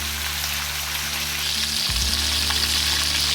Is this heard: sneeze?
no